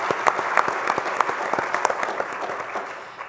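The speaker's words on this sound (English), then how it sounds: "Big round of applause for Ginny." Conference audience in the Cayman Islands applauding at a healthcare event opening, a steady, fairly loud wash of many hands clapping that continues throughout and tapers slightly at the end.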